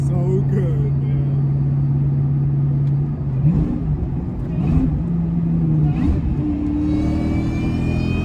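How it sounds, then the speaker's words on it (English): 2003 Terminator Cobra with a catless X-pipe exhaust, droning steadily under speech while the engine note rises and shifts in pitch a few times as it drives. "this exhaust is so damn loud with the Catless X-Pipe"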